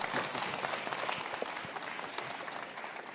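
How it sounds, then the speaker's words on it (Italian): An audience at an Italian school event gives Greta a short, moderately faint round of applause, a steady patter of many hands clapping together. "un applauso a Greta."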